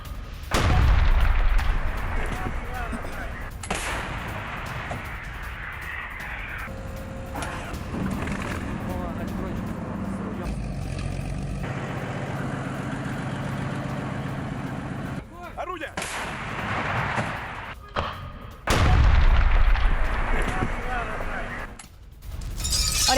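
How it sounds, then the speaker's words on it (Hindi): Russian howitzer artillery fire against a Ukrainian army position in Kursk: heavy booms at the start and again near the end, separated by a mechanical rumble, with voices speaking over parts of it. "रूस का भीषण आर्टिलरी प्रहार हुआ है। यूक्रेन सेना पर होवित्जर से हमला हुआ है।"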